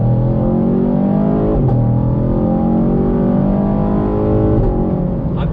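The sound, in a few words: 2019 Chevrolet Camaro SS engine and exhaust accelerating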